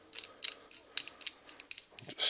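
An M60 machine gun bolt plug is screwed by hand into the bolt, giving a close, quiet run of about a dozen small metallic clicks and ratchet-like ticks, ending in a louder scrape.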